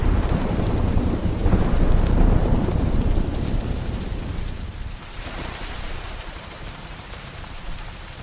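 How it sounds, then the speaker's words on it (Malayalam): Heavy monsoon rain in Kerala pours steadily while deep thunder rumbles and rolls loudly at first, then fades, leaving a dense, constant wash of rain with no voices. "എന്തു മഴയാണ് ഇത്!"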